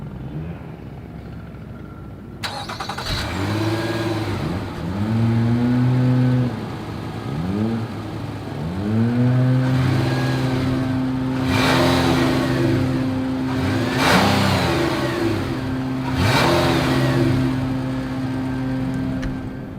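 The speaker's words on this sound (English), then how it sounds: "As always, here is that exhaust clip." A 2021 Nissan Murano mid-size SUV with dual exhaust idles, then revs several times in rising and falling sweeps, each climb followed by a settle back toward idle, heard loudly from close behind the vehicle.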